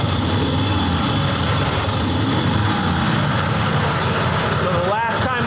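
A rebuilt, formerly flood-damaged flathead Harley-Davidson motorcycle engine idles steadily and loudly up close, an even low rumble throughout, with a brief voice near the end.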